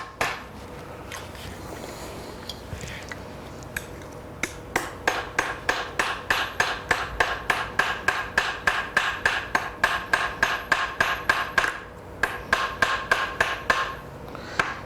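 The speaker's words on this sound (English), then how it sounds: "And I'm always hammering in the same place and moving the metal into the hammer." Metal being hammered during shell forming as the sheet is fed under the hammer at one spot, a close, steady run of sharp ringing blows that speeds into a regular rhythm, with softer scattered taps before it.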